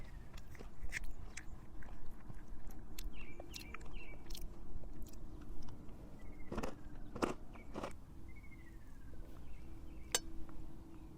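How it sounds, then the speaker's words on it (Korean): Someone outdoors while backpacking eats spicy bibim noodles with whelk and seaweed, making close, wet chewing and biting sounds with occasional crunches and light clinks over a low ambient hum. "한번 조심히 먹어볼게요"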